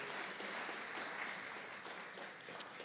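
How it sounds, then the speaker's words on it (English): Audience applause fills an awards night for innovation and entrepreneurship, a dense, steady wash of many hands clapping at once that holds at an even level throughout. "A round of applause for Ken and his team."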